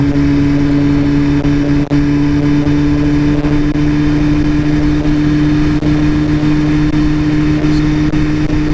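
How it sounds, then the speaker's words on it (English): A 2015 BMW S1000RR motorcycle engine drones through its stock exhaust can, holding a loud, steady tone with no pauses while riding along. "Bike's got a great tonal note to it, the stock can on this one."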